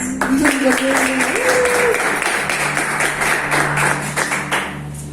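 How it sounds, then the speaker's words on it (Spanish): A church congregation applauds loudly during a Sunday service, with dense, sustained clapping over a humming tone and some shouted voices, gradually thinning out toward the end. "Dale un fuerte aplauso a Dios por eso."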